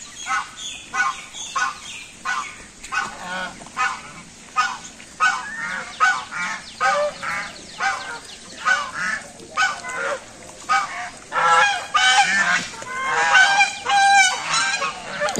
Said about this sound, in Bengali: অনেকগুলো হাঁস এসে রাজহাঁস